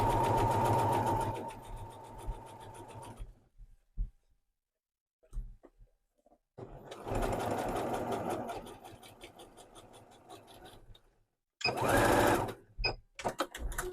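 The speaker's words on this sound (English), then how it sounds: "we are stitching very close to the edge of the seam" A sewing machine stitches a pocket bag close to the seam edge in a welt pocket, running in bursts of rapid, close mechanical whirring separated by quiet pauses and small handling clicks.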